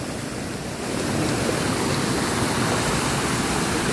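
Water pours steadily at a fountain in Valencia, Spain, a loud, dense, continuous rush close by that swells slightly after the first second, with no voices.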